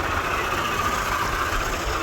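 An MTZ tractor engine runs at a steady idle on a farm during ploughing, a continuous low, rough drone close by with no break or change in pitch.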